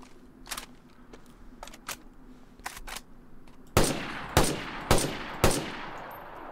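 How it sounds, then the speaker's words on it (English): Gunfire from the survival video game DayZ: four loud, sharp shots spaced about half a second apart, each with a short decaying tail, following a stretch of faint clicks and handling noises. "shooting through things and then seeing where the bullets go afterwards"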